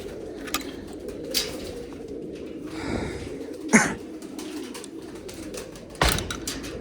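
Pigeons cooing in a loft holding dozens of birds, soft low coos repeating under a steady background hum, with a few sharper knocks and rustles alone without talk.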